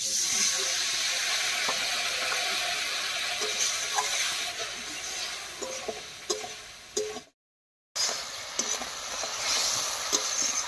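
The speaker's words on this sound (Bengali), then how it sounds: "এবার মশলা বাটা জল দিয়ে কষিয়ে নেব।" Potatoes frying in a pan with spice paste and water: a steady, soft hiss and sizzle with occasional stirring clinks and scrapes, fairly close, briefly cut to silence partway through, no talk.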